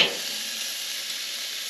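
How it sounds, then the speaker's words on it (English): Steak hitting a hot frying pan in a cabin kitchen, a steady close hissing sizzle that continues evenly throughout with no talk. "you all ready for the sizzle?"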